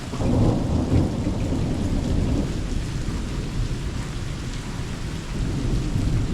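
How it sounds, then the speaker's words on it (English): A thunderstorm with heavy rain makes a loud, continuous downpour and a deep rumble of thunder that swells early, eases off and builds again toward the end. "We got some crazy storms going on."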